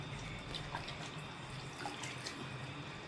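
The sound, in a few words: washing goat mutton in water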